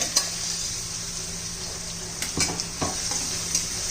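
Garlic, ginger and green chilli paste fries in hot oil with a steady sizzle, broken by a few light scrapes and clinks of a spoon stirring in the pan, with no talk.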